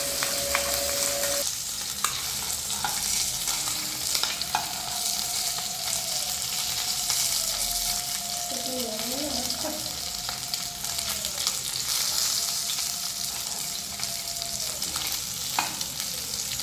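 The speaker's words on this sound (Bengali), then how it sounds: "তো আমাদের মাছ ভাজা হয়ে গেছে।" Pieces of pabda fish fry in oil in a pan with a continuous crackling sizzle, close and loud. An occasional tap of utensils and a faint background tone sit beneath it, with no speech.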